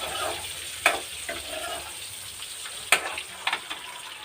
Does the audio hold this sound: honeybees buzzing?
no